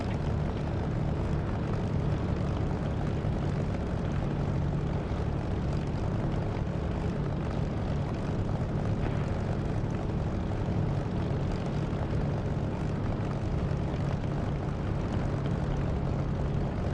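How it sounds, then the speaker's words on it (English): A-20 bombers fly over in the DCS flight simulator, a steady, loud propeller-engine drone that holds constant throughout without any voices. "The bombers going over are A-20s"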